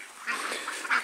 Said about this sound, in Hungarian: ha közelebb megyek, akkor a kacsák úgy ordítanak, hogy nem lehet beszélni megint